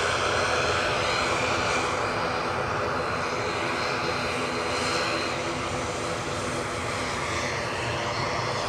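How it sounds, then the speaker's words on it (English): An airliner's engines roar in a loud, steady, broad rush as the plane departs Edinburgh airport for Warsaw, sustained throughout with no voices over it. "Plane you were looking at is off to Warsaw."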